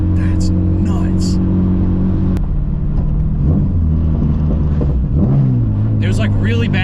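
A Toyota FRS with a K24 engine swap drives along with a steady, loud engine drone that shifts pitch under throttle, while voices talk inside the car.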